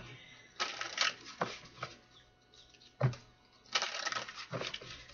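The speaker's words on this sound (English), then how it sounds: "One more shuffle." Tarot cards are shuffled close up in several quick riffling bursts, with short pauses between them.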